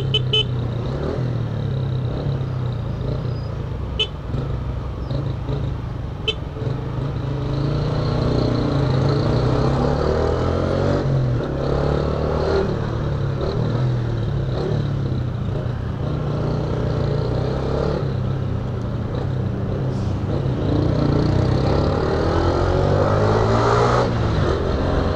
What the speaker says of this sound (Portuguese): Não tem como você não pegar trânsito aqui